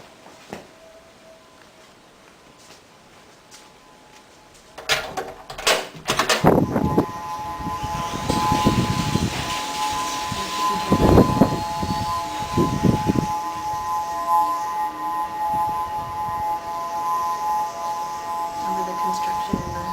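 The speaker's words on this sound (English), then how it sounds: "They run the emergency sirens because it's typhoon season, and they want to make sure that the sirens are working just in case something happens." Emergency sirens sounded in a noon test during typhoon season, starting around five seconds in as a sustained, droning wail that holds steady through the rest, mixed with wind and construction noise.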